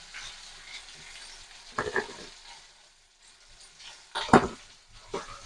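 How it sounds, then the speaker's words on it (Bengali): Chopped tomatoes with salt frying in oil, stirred in a pan: a soft continuous sizzle broken by a few louder scraping strokes of the spoon, close up, with no talking. "1 মিনিট মতো আমি টমেটোটাকে তেলের মধ্যে নেড়ে নেবো"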